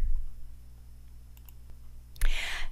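A single sharp mouse click while leaving a Zoom meeting on a computer, a brief close transient near the end followed by a short burst of faint noise, against a quiet room hum.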